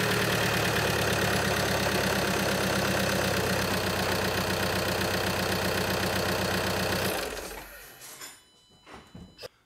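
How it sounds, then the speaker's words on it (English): A VW Jetta TDI diesel engine with a manual transmission and a freshly replaced clutch and flywheel runs steadily with a loud, close, rattly idle for about seven seconds, then shuts off and leaves a few faint clicks and knocks. "So now I'm gonna go inside the vehicle and start the engine."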